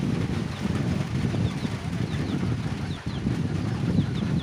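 Small backyard flock of laying hens on a mixed farm, soft continuous clucking and murmuring from several birds nearby, with a faint higher chirp now and then and no speech.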